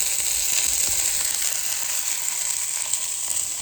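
A drop of oil sizzles and fries on a hot Callow 4-burner plancha, a steady close hiss of crackling spatter running without pause.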